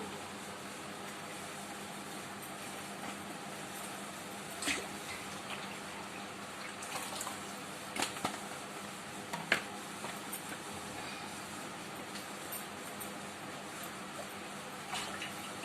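Water splashes and trickles steadily into a steel vessel, about 3 liters poured, with faint clinks and a few sharper knocks standing out over the continuous flow.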